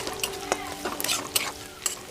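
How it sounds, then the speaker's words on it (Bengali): Chopped onion frying in a pan with cumin and dried chilli, a soft sizzle under a few sharp clinks and scrapes of a stirring spoon against the pan, close and brief. "পেঁয়াজ কুচানোগুলো বেশ লাল লাল করে ভেজে নেব।"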